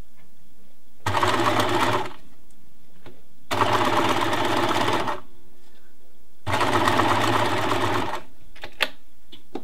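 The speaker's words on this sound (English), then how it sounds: "Just kind of stitching very carefully. I'm gonna do a little bar tack" A sewing machine runs in three separate bursts of about a second each, stitching a bar tack on bralette elastic, loud and close, with short quiet pauses between the runs.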